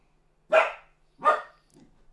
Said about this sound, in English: He's barking at everything.